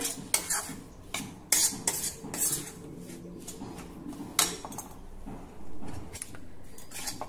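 Wheat dough roasting in a pan until golden brown while a utensil stirs it, with repeated sharp metallic scrapes and clinks over a low background rustle, close and fairly loud, no voices.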